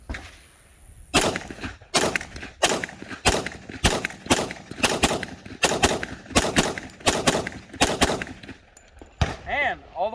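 Rock Island Armory Tac Ultra 10mm all-steel pistol firing Armscore hollow points at a range, a steady string of about a dozen loud, sharp shots spaced roughly half a second apart, ending as the slide locks back.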